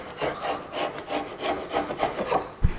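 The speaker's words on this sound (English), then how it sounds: "To run the chisel down that glue line." A chisel scraping along a glue line on a wooden mitred joint, a steady rasping rub in repeated strokes, close and fairly loud, ending with a sharp knock.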